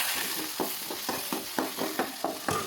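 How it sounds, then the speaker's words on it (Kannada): Sliced onions frying in a pan, a continuous close sizzle with regular scraping strokes of a spatula stirring roughly every quarter second, no talking. "ಉಳ್ಳಾಗಡ್ಡಿ ಸ್ವಲ್ಪ ಕೆಂಪು ಆಗುವವರೆಗೂ ಫ್ರೈ ಮಾಡ್ಕೊಳ್ಳಿ"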